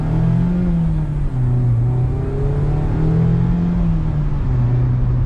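A 2021 Mazda Miata's engine accelerates at part throttle, heard from inside the car as a loud, steady drone whose pitch rises and dips gently over several seconds, with no talking.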